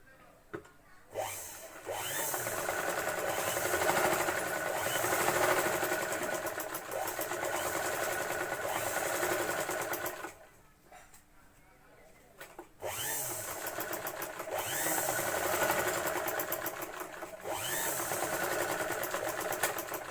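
A sewing machine stitches a prince-cut blouse in long, steady runs with a brief stop partway, the motor whirring and the needle rattling rapidly up close.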